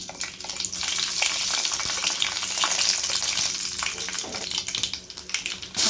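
Mustard seeds and fenugreek crackle in hot oil for tempering an egg paniyaram kulambu, a dense, loud continuous sizzle peppered with sharp pops, heard up close with no voices.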